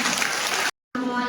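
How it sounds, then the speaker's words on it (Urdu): An audience claps to welcome a speaker onto a stage at an Eid al-Adha event, dense steady applause that cuts out abruptly for a moment and then resumes. "زوردار تالیوں سے ان کا استقبال کریں"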